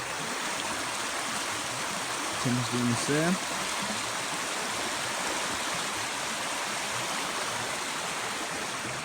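River water flows steadily throughout as a broad continuous wash during a river crossing, with a brief spoken remark partway through.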